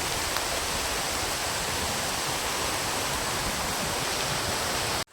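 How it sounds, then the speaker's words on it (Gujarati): Steady, dense hiss of rain falling continuously at Gandhara ashram, loud and close, with no voices, cutting off abruptly at the end. "વરસાદ ચાલુ થઈ ગયો છે અત્યારે પાછો."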